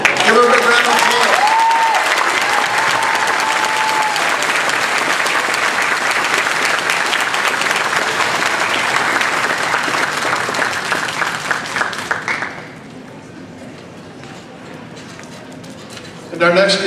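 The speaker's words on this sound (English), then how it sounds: "Give her a round of applause." Dense, loud audience applause at a Toastmasters speech contest fills a hall for about twelve seconds, with a voice speaking briefly early on, then it stops abruptly, leaving quiet room tone.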